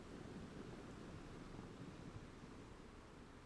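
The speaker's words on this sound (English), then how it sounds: "listen to the waves hitting the beach" Ocean surf washing onto a sandy beach at night, a steady soft low rush that never breaks into distinct crashes, faint and even throughout with no voices.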